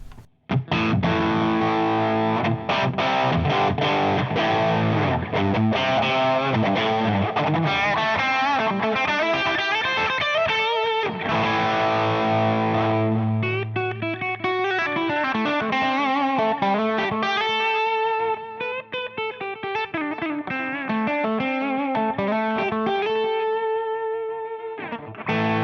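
An electric guitar played through a Nobels ODR-1 overdrive pedal rings out with crunchy, saturated chords and sustained single notes, loud and close, with dynamics shifting from heavy strumming to lighter picking and no voices.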